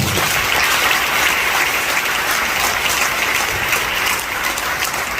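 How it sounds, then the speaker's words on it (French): Sustained applause from a church congregation fills the clip at a steady, loud level, marking a sixtieth-anniversary celebration at the first Catholic church in Cocody. "Ça s'applaudit aussi."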